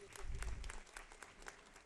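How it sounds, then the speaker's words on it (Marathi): Applause from an audience at a loan distribution and self-employment gathering in Nanded, a dense patter of many clapping hands that swells and then thins, heard faintly with a hollow, distant hall quality. "एकदा जोरदार टाळ्या वाजवा."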